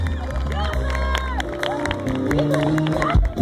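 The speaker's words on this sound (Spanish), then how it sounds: "yo les quiero brindar un aplauso" Audience applause and cheering from a crowd at a live stage show, a dense wash of clapping mixed with voices and backing music, steady and fairly loud throughout.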